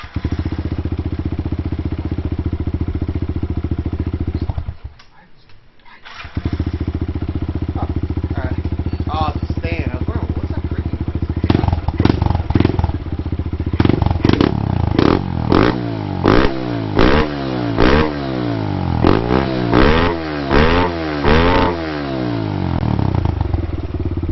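A 2017 Kawasaki KLX110L dirt bike with a BBR aftermarket exhaust idles steadily, cuts out briefly, then fires back up and revs repeatedly in sharp bursts, loud and close.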